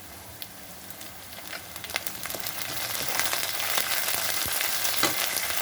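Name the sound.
curry leaves sizzling in hot mustard oil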